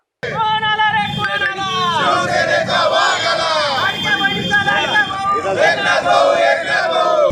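A Shiv Sena celebration crowd in Dhule shouts and cheers together, loud and sustained, with overlapping voices and chant-like cries rising and falling throughout.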